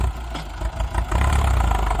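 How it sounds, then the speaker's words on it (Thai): Ford 6610 tractor pushing soil to build up a paddy-field dike in Surin, its engine rumbling steadily and close with heavy low-end labouring and slight surges under load. "มาดูรถไถฟอร์ดครับดันแรงๆปั้นคันนา"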